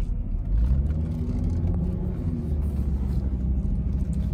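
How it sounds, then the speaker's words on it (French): A Volvo XC90 2.5T pulls away from a roundabout leaving town, its engine a steady low rumble and whir rising gently under normal acceleration, heard from inside the cabin with no talking. "je vais vous faire une petite accélération normale"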